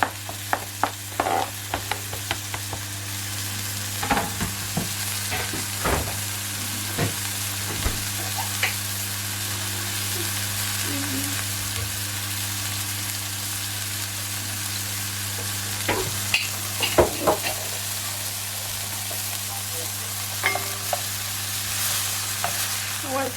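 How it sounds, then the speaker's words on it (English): Prawns fry in a hot pan with onions, yellow pepper, carrot, spring onion and garlic paste, giving a steady close sizzle broken by scattered clicks and scrapes of stirring, with no talk. "Prawns, we're going to fry it off the seasoning, which we have onions, yellow pepper, carrot, spring onion"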